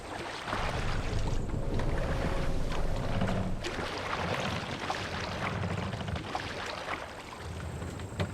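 Rowing a boat in the Assassin's Creed Valhalla video game: a continuous wash of water and wind with rhythmic oar splashes and creaks, steady and moderately loud with no talk.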